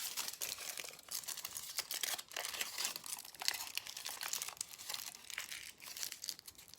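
Aluminium foil crinkles and crumples steadily as a small piece is wrapped around a fingernail during gel manicure removal, close-up and continuous, with no voices.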